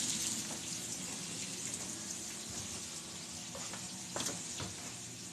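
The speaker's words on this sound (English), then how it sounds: "while these are frying the last couple minutes" Pork chops sizzling and frying steadily in a pan, a continuous close hiss with occasional pops and faint stirring clatter, no talking.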